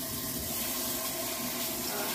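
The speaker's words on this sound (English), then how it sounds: "Now I'm washing my hands." Warm water runs steadily from a tap over hands being washed at a sink, a loud continuous rushing splash with no pauses.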